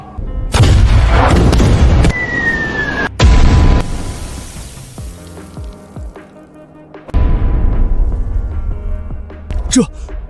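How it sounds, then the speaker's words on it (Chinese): Several heavy booming blasts in quick succession, loud and close, with rumbling decay and a whistling streak between them. "轰平这座泥巴墙！ 开炮！"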